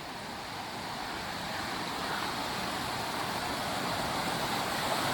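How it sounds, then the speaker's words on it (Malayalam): A flooded river in Idukki rushes during monsoon rains, a steady broadband roar of fast-flowing water that builds slightly louder over the seconds, with no voices. "പുഴ ഇപ്പോഴും കലിപ്പിൽ ഒഴുകിക്കൊണ്ടിരിക്കുക"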